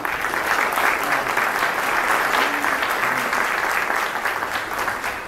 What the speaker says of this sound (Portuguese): Eu queria pedir umas palmas para esse cara